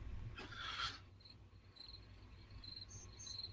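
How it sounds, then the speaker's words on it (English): A cricket chirping soundboard effect: faint, evenly spaced chirps over quiet background hiss, following a short rustling noise at the start. "Bart, where's that cricket soundboard?"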